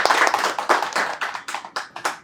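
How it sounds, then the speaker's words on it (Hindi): Students clap in a classroom, a moderately sized group producing a few quick bursts of applause that taper off into scattered separate claps, close and fairly loud with no speech over it. "तो एक बार जोरदार तालियां हो जाए हमारे प्रशांत सर के लिए"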